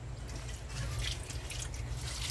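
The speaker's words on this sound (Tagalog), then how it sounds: "Kunan muna natin sa tubig para matanggal na may alikabok" Homegrown leafy vegetables rinsed in water, with a steady, close wash of splashing and dripping water running throughout at moderate loudness, no voices.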